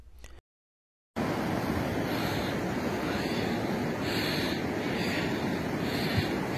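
The Dhauli Ganga river in Uttarakhand rushes through a mountain valley with a steady, dense roar of water. A brief dropout near the start cuts to near silence before the full, continuous rush resumes.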